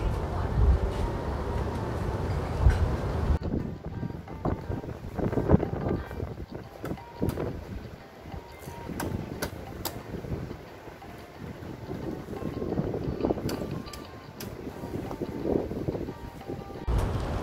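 Strong wind gusts buffet the microphone in a steady roar at the Glagah Beach lagoon in Kulon Progo, Yogyakarta, with rumbling low noise throughout and faint sounds of boats and water beneath.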